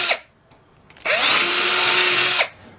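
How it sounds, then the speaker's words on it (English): A power drill whirs loudly at high speed for about a second and a half, boring pin holes in a cigar box guitar, starting and stopping abruptly, with quiet pauses around it. "I know you like the sound of that drill"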